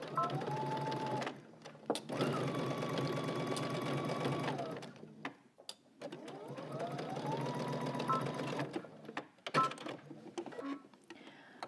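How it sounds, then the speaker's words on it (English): Sewing machine stitching through all layers of a garment facing at a 5/8-inch seam allowance, running in two long bursts with a pause between them, steady whirring and rhythmic needle chatter, close and clear with no talk. "Now I'm going to go ahead and stitch through all layers using 5/8 of an inch seam allowance."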